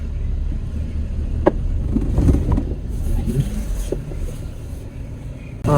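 A manual car reverses slowly with the steering held straight, giving a steady low engine rumble with wind buffeting the microphone and a few soft knocks, plus a brief stretch of muffled talk.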